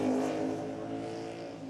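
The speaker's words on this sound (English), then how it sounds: "It sounds like it's misfiring. Yamaha MT-07 in this car." Formula Student race car powered by a Yamaha MT-07 engine, running rough as if misfiring; a steady, fairly close engine note with uneven pulsing, alone with no talk.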